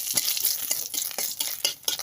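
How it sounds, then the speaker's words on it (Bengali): Dried red chillies fry in hot oil in a wok for a tomato dal tempering, with a steady close sizzle broken by repeated sharp scraping stirs. "কড়াইতে তেল দিলাম শুকনো লঙ্কা দিলাম"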